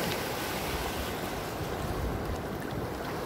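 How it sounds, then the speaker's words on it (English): Pacific Ocean waves rolling over a sandbar off Davao, a loud, steady wash of surf with wind buffeting the microphone and no pauses throughout. "And the wave is getting bigger."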